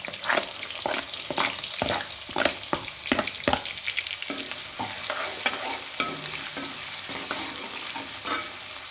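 Chopped onion frying in oil with mustard seeds and cumin for a pea stir-fry, a steady sizzle punctuated by regular scraping stirs, close and fairly quiet.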